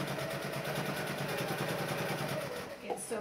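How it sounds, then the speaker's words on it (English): A heavy-duty Janome 1600P sewing machine stitching through two layers of leather makes a steady, fast mechanical chatter that runs evenly throughout and slows slightly at the very end. "it sews through the two layers of leather fine"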